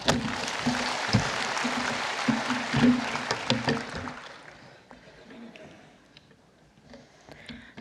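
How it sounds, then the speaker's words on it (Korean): A church congregation applauds for about four seconds of dense, fairly loud clapping, which then thins and fades into a quieter room over the last few seconds. "박수 한번 합시다"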